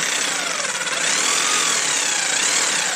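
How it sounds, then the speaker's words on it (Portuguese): Handheld electric drill runs continuously at high speed while boring into a suitcase wheel fitting, a loud, close, steady whine with a slight rise in pitch and no talk over it. "eu tô fazendo desse jeito, meus amigos, com a furadeira diretamente na mão assim"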